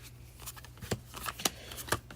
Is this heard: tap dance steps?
no